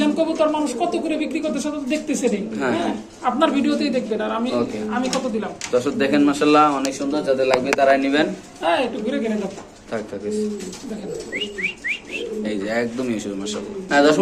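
Black Mundian pigeons coo steadily throughout, with a voice talking over the birds nearly the whole time.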